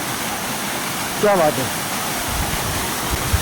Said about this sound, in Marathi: धबधबा आला इथं.